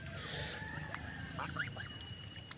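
Ducks quack a few times in quick, scattered calls, somewhat distant against a low steady background hum.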